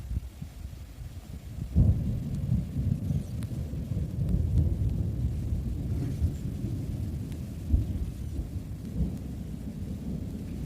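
A continuous low roar of rushing water, heavy and steady throughout, with a few louder thumps breaking through.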